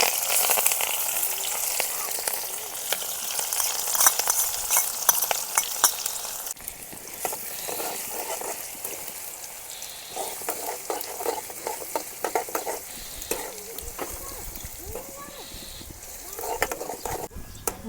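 A garlic and chili paste fries in oil with cumin and ajwain for a Kathiyawadi cluster-bean curry, giving a steady sizzle broken by scraping spoon strokes against the pan, with a few quieter gaps.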